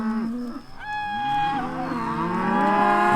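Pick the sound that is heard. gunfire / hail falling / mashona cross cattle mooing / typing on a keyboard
mashona cross cattle mooing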